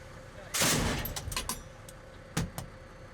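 A loud, sharp cannon blast from a BTR-4E Bucephalus armored vehicle's gun with a rattling tail, followed by clanks and a second sharp metallic bang, heard from close inside.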